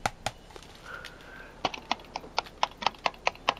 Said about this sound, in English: Does your PS5 controller sound like this?